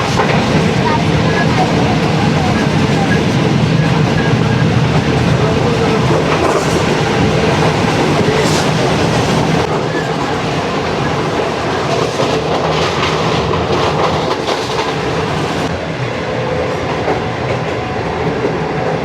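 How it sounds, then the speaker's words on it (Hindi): The Shalimar Express passenger train runs near Shahdara, Lahore, with a continuous loud rumble and rhythmic clickety-clack of wheels over rail joints, plus occasional sharp metallic clanks. "ट्रेन हमारी फाइनली अब शादरा बाग जंक्शन की तरफ रुख है उसका"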